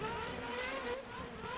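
Race cars in a racing video game at the Canadian Grand Prix, Circuit Gilles Villeneuve, roar past on a long straight, a loud steady high-pitched engine drone with rising and falling tones that never lets up.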